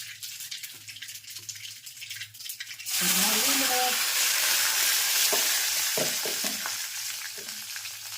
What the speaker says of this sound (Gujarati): મસ્ત મજાના મગનો વઘાર